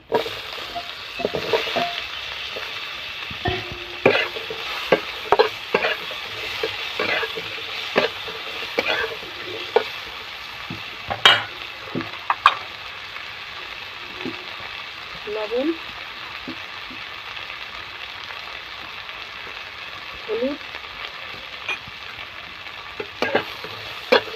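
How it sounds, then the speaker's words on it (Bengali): Raw mango pieces and fish roe are stirred as they fry in a pan, with repeated scraping knocks of a utensil over a low sizzle and faint background voices now and then. "ভালো করে একটু নাড়িয়ে চালিয়ে নেবো"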